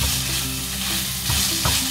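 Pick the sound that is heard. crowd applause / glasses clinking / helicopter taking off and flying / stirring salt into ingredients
stirring salt into ingredients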